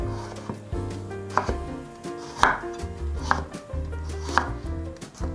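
A knife chops peeled carrot into thin strips on a cutting board, a steady run of sharp, close taps in a quick, even rhythm with brief pauses between bursts, no talk.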